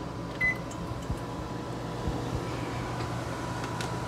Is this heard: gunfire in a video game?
no